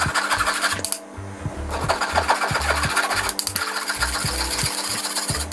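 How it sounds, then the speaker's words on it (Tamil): Flour being sifted through a sieve into a bowl for sugar doughnut dough, heard as a close, steady run of rhythmic rasping shakes and soft thumps with no talking. "இப்போ இதை நான் வந்து இதுக்குள்ளே கொஞ்சம் கொஞ்சமாக சேர்க்க போகிறேன், ஒரே அடியாக சேர்க்காமல். அதே நேரம் அரிச்சு தான் போடணும்."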